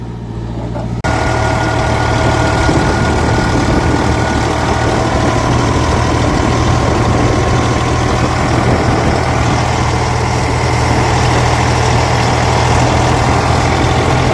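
Tractor engines idle together at a road repair site, a steady low diesel rumble that holds at an even, fairly loud level throughout, with no voices over it.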